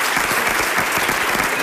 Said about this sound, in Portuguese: Salve palmas para eles.